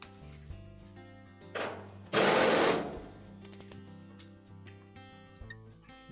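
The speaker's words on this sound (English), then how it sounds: "we'll remove two screws right up at the top here that go through a bracket that holds the main top in place" A screwdriver or power driver whirs briefly while backing out screws from the top bracket of a Whirlpool dryer, a short loud buzzing burst followed by faint metallic ticks and handling noises, close by.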